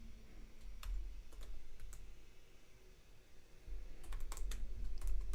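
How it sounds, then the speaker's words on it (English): Typing on a computer keyboard in bursts of quick, light key clicks separated by short pauses, close and fairly quiet, with no talking. "I'm going to type in"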